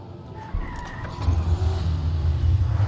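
Car engine idling in the zombie video game Dying Light The Following, a steady low rumble that grows louder and fuller after a moment, then holds close and continuous with no talk.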